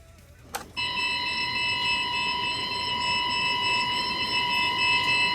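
Hasbro Plasma Series 1984 Proton Pack toy, powered on with its ribbon cable removed, lets out a sharp click and then a steady, piercing electronic alarm tone that drones on without a break.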